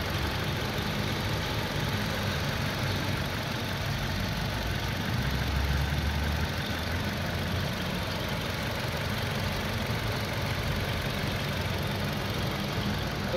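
Engine of a 2008 Toyota Innova G with manual transmission idling steadily with accessories running, a dry, rough mechanical clatter heard close and continuous.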